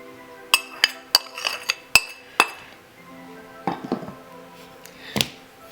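Dry dhokla flour, semolina and gram flour stirred together in a bowl, giving a run of sharp clinks and taps of a utensil against the bowl, closely spaced at first and then sparser scraping knocks, close up with no talk.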